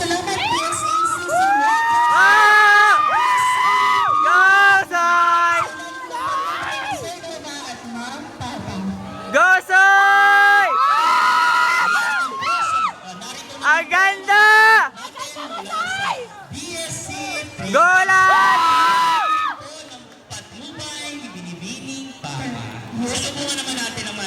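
A crowd at a university Sunduan sa Nayon celebration cheers loudly, with shouts, whoops and high-pitched voices. The cheering runs for over twenty seconds with a few short lulls.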